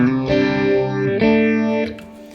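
Electric guitar run through Vibe and Mjolnir effects pedals: heavily effected, distorted chords with a chorus-like wobble, two long sustained strums followed by a fading tail and a few faint noisy scrapes.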